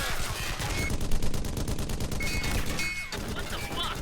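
Dense gunfire from an anime episode of Jormungand rattles as a continuous loud fusillade of rapid shots, with overlapping bursts and no pauses.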